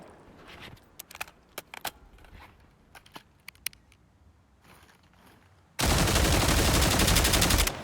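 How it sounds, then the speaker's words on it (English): SA-58 OSW rifle, a FAL-derived 20-round rifle, firing in the SCP: 5K video game; scattered sharp reports early, then a loud, dense sustained burst of rapid shots fills the last two seconds. "And our last rifle is the SA-58 OSW."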